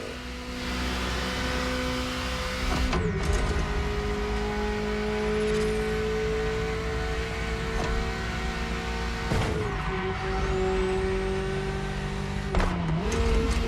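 A Ferrari F40 supercar in the racing game The Crew Motorfest revs hard through repeated gear changes, its engine note climbing, dipping and climbing again, loud and close with no talk.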